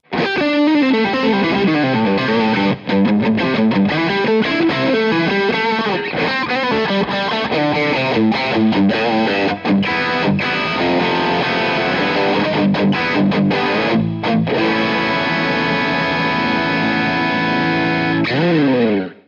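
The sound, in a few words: electric guitar through two stacked overdrive pedals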